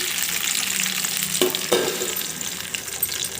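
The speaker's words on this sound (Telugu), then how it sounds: "ఆయిల్ బాగా హీట్ అయిన తర్వాత మనం కట్ చేసుకున్న బెండకాయలని వేసుకోండి" Cut okra (bhindi) frying in hot oil in a kadai for an easy okra curry, a loud steady sizzle hissing throughout with a couple of brief knocks from a spoon partway through, close and without speech.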